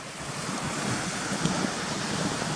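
A fast mountain stream at the Gunnerside mine ruins tumbles down a series of whitewater falls, giving a continuous broad rushing roar, steady and fairly loud, with no voices over it.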